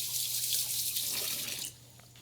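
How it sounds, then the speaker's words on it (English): Tap water running steadily over hands being wetted at a kitchen sink while making bagels, close and even, then cutting off near the end. "wet my hands one more time."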